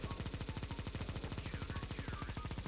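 A Negev machine gun in CS:GO fires a long unbroken burst, its rapid evenly spaced shots loud and close throughout.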